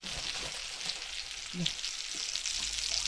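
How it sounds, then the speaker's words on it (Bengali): Onions fry in a hot pan, making a steady, dense sizzle that crackles evenly throughout, with a couple of soft low knocks partway and no voices. "এটা একটু অনিয়নটা ভেজে নেব"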